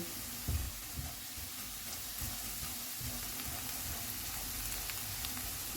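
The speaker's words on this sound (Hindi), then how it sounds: "सब्ज़ मिर्चें डालेंगे। सारे मसाले डालेंगे। इनको 2 मिनट तक भूनेंगे।" Green chillies and spices frying in a pan for potato patties, giving a soft, even, continuous sizzle with faint crackles and a brief clatter near the start, quiet and without talk.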